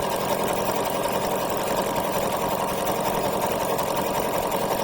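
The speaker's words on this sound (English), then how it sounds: "see how much faster it sews with that stitch just increased?" A sewing machine runs nonstop while sewing a wide satin stitch set to width 5.0, giving a steady, fast, loud mechanical whir and rattle with no pauses or voices.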